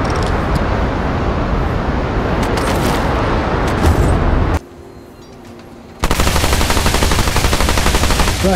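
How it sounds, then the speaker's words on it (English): Rapid fire from the MP60-R handgun in Remnant 2, a dense, loud stream of shots that runs steadily, stops for a moment, then starts again. "It's not a bad starting handgun due to its rapid rate of fire."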